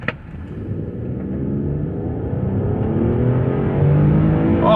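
A 2008 Infiniti EX35 accelerating hard from a standstill to 80 km/h, its engine note rising steadily in pitch and loudness as it revs higher, heard from inside the car with no talking.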